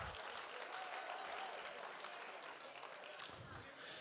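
Applause from the audience at a Make-A-Wish Idaho fundraising gala honoring the $1,000 donors, a steady wash of many hands clapping heard quietly from a distance, with talk and cheers mixed in.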